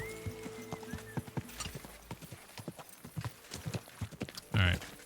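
Hooves of the horse Pebbles clip-clopping on hard ground in Kingdom Come: Deliverance 2, irregular close steps with a short whinny near the end, while a voice speaks faintly underneath.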